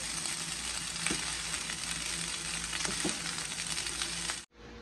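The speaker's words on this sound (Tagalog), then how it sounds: "At pwede na natin i-add yung ating scrambled egg. Haluin lang natin ng mabuti." Scrambled egg being stirred into chicken fried rice in a hot pan: a constant loud sizzle and fry with occasional scrapes of the spatula, cutting off abruptly near the end.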